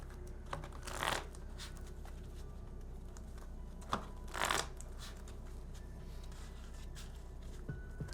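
Pokemon TCG cards being shuffled at a tabletop match, two short riffling bursts separated by a pause, quiet and close, with a few small clicks and taps between.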